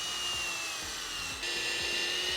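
A drill hums steadily with a rhythmic low churning as the bit bites into a wooden deck board, the tone dipping briefly midway before continuing.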